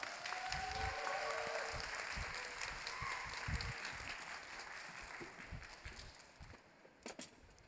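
Congregation applause at a Sunday young-adults church service welcoming a worship team to perform, a dense steady clapping that carries on for several seconds before tapering off near the end.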